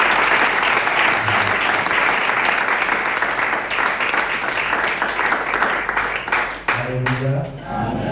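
A church congregation at a retreat bursts into sustained, dense applause that fills the room for several seconds, then fades as a voice begins speaking.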